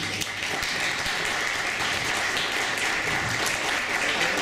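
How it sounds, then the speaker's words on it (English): An audience at a physics lecture applauds a guest speaker with steady, dense clapping that fills the room evenly from start to finish. "Thank you for the warm applause."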